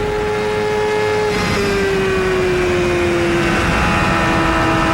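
Indy car engine in a CART race lifting off the throttle through a turn and then getting back on it, a steady high-pitched drone whose pitch sags gradually, loud and continuous with no voices.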